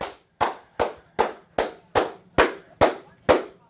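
Ten crisp hand claps land at an even, unhurried pace, close up and loud, with no other sound between them, from a man celebrating Michigan's win over Nebraska.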